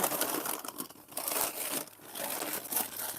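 Paper crinkles and rustles up close in busy bursts, crackling as it is folded and pressed, with brief pauses between handling.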